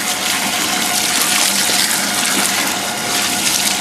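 Water gushes steadily into a tank at a fish and chip shop where peeled potato chips are soaked, a loud, continuous rushing pour with no talking.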